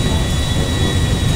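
A plane diving in GTA 5 gives a steady, loud, dense engine roar with a low rumble and a constant high whine, unbroken and close for the whole moment.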